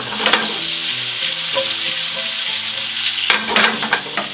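Pommes parisiennes potatoes browning in a pan beside mustard chicken, a loud, steady close sizzle with crackling fat and a few sharper spits and stirring scrapes, no talk.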